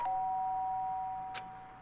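A doorbell chime from the video game Danganronpa: Trigger Happy Havoc sounds at once as a clean, sustained electronic tone that slowly fades, followed by a soft tap.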